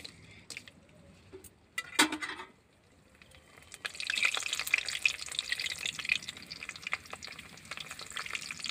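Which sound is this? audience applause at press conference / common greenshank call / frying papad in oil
frying papad in oil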